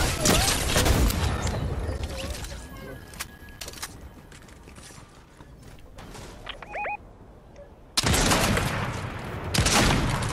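Gunfire in a battle royale shootout in a video game: loud bursts of automatic fire at the start, scattered shots and mechanical clicks in the middle, then heavy bursts again near the end, with players talking over it.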